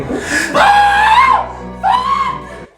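A person lets out two loud, drawn-out screams close by, the first long and piercing, the second shorter after a brief breath, with nothing else behind them.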